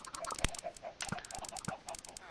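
Chickens cluck in short, repeated bursts on a crowded Minecraft chicken farm, a steady busy chatter of several birds close by with occasional sharper squawks.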